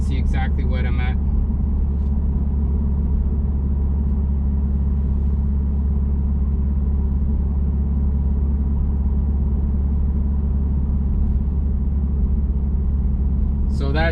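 Low, steady engine and tire drone fills the cabin of a 2017 Subaru WRX Limited cruising a highway at speed, a constant deep rumble with faint brief noises at the start and end.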